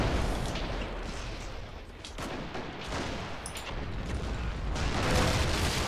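Heavy gunfire and artillery booms rumble continuously in the Men of War: Assault Squad 2 battle, with a big gun firing amid dense, loud battlefield noise and no clear voices.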